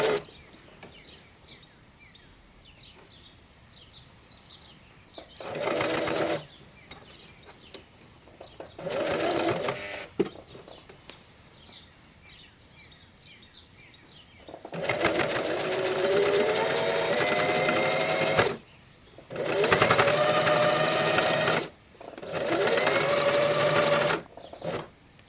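A sewing machine stitches a 1 cm seam allowance folded over elastic for climbing pants, running in several short bursts and then longer runs, loud and close, with quiet pauses between.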